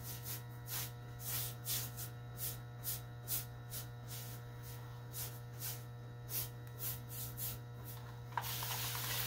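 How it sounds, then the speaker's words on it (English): Quick repeated spritzes from a spray bottle, about two dozen short hissing bursts in an irregular rhythm over a low hum, close by. "Sometimes just spraying it"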